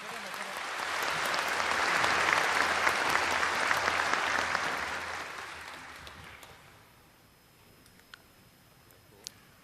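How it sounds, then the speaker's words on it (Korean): Applause from the audience at the 80th Liberation Day ceremony swells to a loud, full peak, then fades away to near silence, leaving a few isolated clicks. "다시 한번 뜨거운 박수 부탁드리겠습니다"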